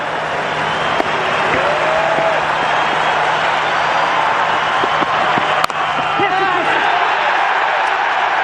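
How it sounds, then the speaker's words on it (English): The crowd at Newlands applauds steadily during a Pakistan versus South Africa cricket Test match, a broad, sustained wash of clapping from a large stadium audience with a couple of sharp knocks, continuing throughout. "Once again, for a 3rd time, this Newlands crowd applauds in anticipation."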